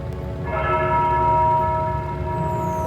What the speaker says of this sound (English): The tolling of a bell!